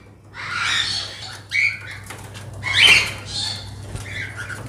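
A pair of ino cockatiels in an aviary flutters and flaps their wings, with bursts of close wingbeats and sharp squawks breaking over a steady background hum.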